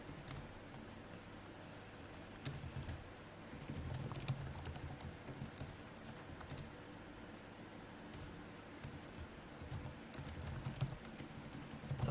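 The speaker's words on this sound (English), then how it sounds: "Stop typing." Keystrokes on a computer keyboard during a C# coding session, a steady run of light, irregular clicks and taps over a low room hum, with occasional louder key presses.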